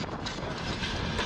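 Freight train rolling along the tracks, a loud continuous rumble and rattle of wheels and cars close by, steady throughout with no voices.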